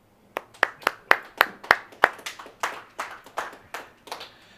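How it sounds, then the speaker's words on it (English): Sparse applause from a handful of bowling teammates at the Weber Cup, roughly a dozen distinct claps in an even rhythm that fade toward the end, close and moderately quiet with no talking over them. "A smattering of applause"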